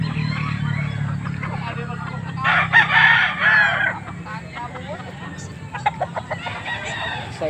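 A rooster crows loudly and close by, with clucking fowl around it and people talking in the background, at a market in Angeles, Pampanga.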